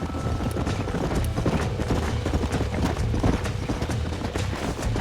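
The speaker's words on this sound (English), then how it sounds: "There's the horses!" Several horses gallop in Red Dead Redemption, a rapid, dense clip-clop of hooves thundering close by without pause.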